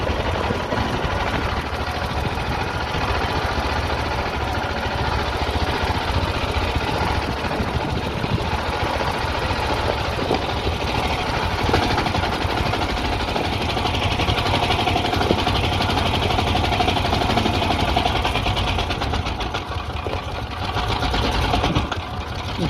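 A dune buggy engine runs hard and steadily with the clutch slipping, giving a dense, rapid mechanical rattle and drone that stays loud and unbroken throughout.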